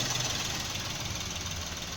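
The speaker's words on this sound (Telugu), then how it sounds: "ఇంజన్ సౌండ్ కూడా చూసుకోవచ్చు టోటల్ సైలెంట్ ఉంది" A Maruti Suzuki WagonR LXi petrol car engine idles close by with an even, low rumbling hum and a slight rhythmic pulse, steady throughout with no voices.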